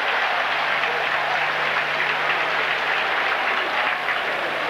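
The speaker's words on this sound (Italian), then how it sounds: "Gli applausi che ascoltate sono diretti a Facchetti" A stadium crowd applauds steadily for Facchetti, limping to the bench in a tracksuit during the 1973 Italy vs Brazil friendly. The dense, even clapping holds at full strength throughout without pause.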